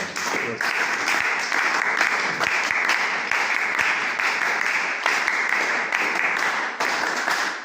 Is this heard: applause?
yes